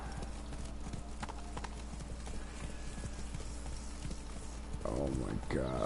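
Roach the horse's hooves clip-clop in a steady walking rhythm in The Witcher 3: Blood and Wine, close and clear, with a voice coming in near the end.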